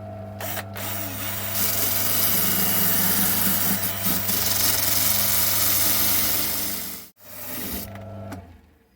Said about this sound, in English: Time for a bit of sanding.